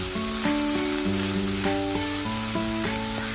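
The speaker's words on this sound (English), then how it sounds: "So add chopped onions into the pan and give it a stir." Chopped onions fry and sizzle in a pan as they are stirred for a soya chunk curry, a steady hiss under prominent background music with no talking.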